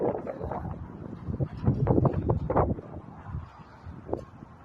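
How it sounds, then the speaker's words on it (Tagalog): Gusty wind outdoors in Calgary, Canada buffets the microphone in uneven bursts, rumbling low and loud, easing off toward the end with a brief sharp gust. "Lakas ng hangin eh."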